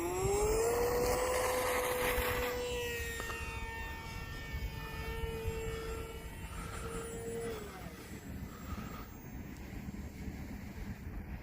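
A Hobbyzone Aeroscout S 1.1m RC airplane motor whines past in flight, a rising-then-falling electric buzz that fades into a steady distant drone at low throttle, with wind noise and no talking.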